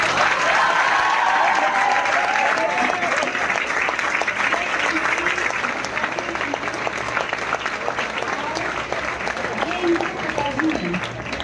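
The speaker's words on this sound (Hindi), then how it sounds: "इनके लिए जोरदार तालियां" A seated crowd claps steadily and loudly for a brother and sister at a motivational event, a continuous stretch of applause lasting several seconds with voices mixed in.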